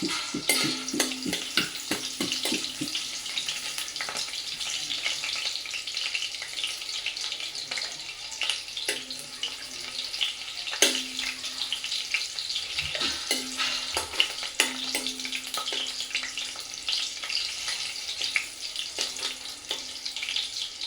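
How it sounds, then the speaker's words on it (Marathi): Two or three garlic cloves fry in two spoons of hot oil, a steady close sizzle with scattered sharp pops and crackles and occasional stirring clicks throughout, no voices. "2 चमचे तेल घातलंय, चांगलं गरम झालंय. लसूण वापरायचं 2 ते 3 पाकळ्या."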